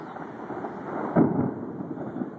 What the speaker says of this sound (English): this giant lightning and thunderstorm is hovering over the top of Cleveland